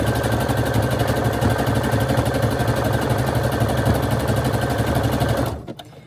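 A sewing machine stitches the spine of a junk journal book, a loud rapid steady whirring and needle chatter running continuously for over five seconds before stopping abruptly.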